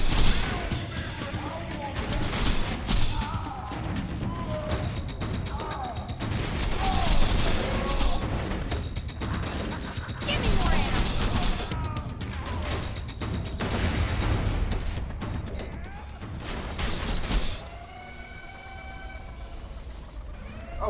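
Shotgun blasts and gunfire in Borderlands 2 gameplay, loud bursts crowding a dense, busy mix of game effects and music, with a player talking over them.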